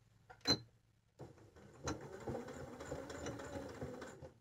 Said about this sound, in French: Et on fait un point arrière.